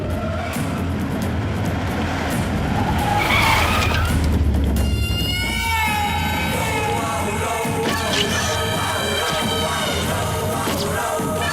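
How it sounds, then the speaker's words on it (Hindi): A car skids hard with a long tire squeal, loud and close, then a steady sliding screech continues over a dense, noisy background in an action-film chase as a vehicle arrives at a temple. "सरकार की गाड़ी आ रही है।"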